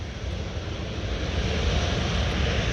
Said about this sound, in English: There you go, Royal Air Morocco, Dreamliner 787.